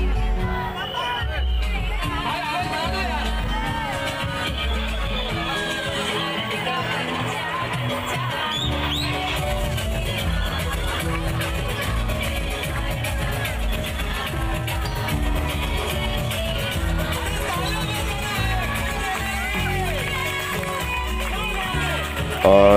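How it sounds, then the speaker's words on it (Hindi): Dense festival crowd at a Dahi Handi celebration in Mumbai, a constant loud wash of cheering and chatter layered with pounding drums and music, with no break throughout. "ये देखिए काफ़ी भीड़ बढ़ गई है"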